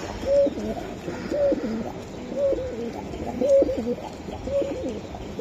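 Pigeons, including running and racer types, cooing in a loft: a series of about five repeated rolling coos at a steady rhythm, fairly close and clear, with no talk.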